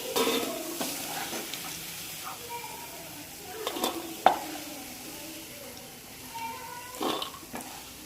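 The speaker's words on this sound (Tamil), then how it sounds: "இந்த எண்ணெயிலேயே சுண்டக்காவை நல்லா வதக்கி எடுத்துடலாம்" Turkey berries sauté in hot oil in a pan, with a steady low sizzle broken by stirring scrapes and a few sharp utensil knocks against the pan, close and fairly quiet, with no talking.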